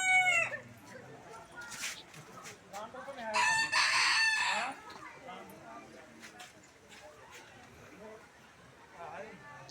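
A rooster crows loudly and close at Silathoranam near Tirumala, among various birds and chickens clucking around it, with voices talking in the background.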